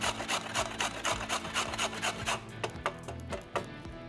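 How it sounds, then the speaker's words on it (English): Vegetables such as zucchini and carrots are grated on a metal box grater, giving rhythmic rasping strokes close by, steady at first and then becoming sparser and more uneven. "we'll just do it in my box grater as well"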